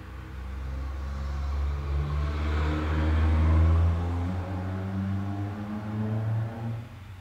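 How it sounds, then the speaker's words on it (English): Cars passing on a busy main road outside through a window that won't shut, a steady loud engine rumble and tyre roar swelling as a vehicle goes by mid-clip, then fading into continuing traffic. "And these cars are noisy as shit."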